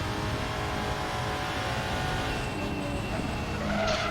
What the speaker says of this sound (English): you can hear the tyres squealing, absolutely screaming at him